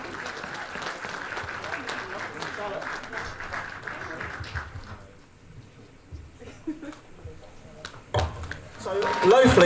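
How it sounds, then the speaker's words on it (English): Audience applause fills a Rotary East London awards ceremony, a dense, steady burst of clapping that fades to a quieter patter midway before swelling loudly again at the end. "Can we have a round of applause for Charlotte, please?"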